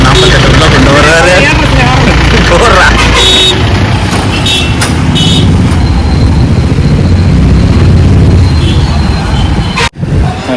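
A vehicle is reversed and turned around at a fish market in Dindigul, its engine a steady loud rumble under nearby voices and busy crowd noise, with a short horn toot before the sound cuts off abruptly.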